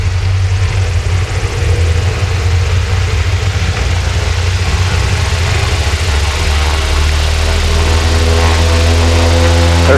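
Twin engines of an Albatross seaplane run up before takeoff, a loud, steady droning roar with a deep low hum that holds constant and rises slightly toward the end, close and unbroken.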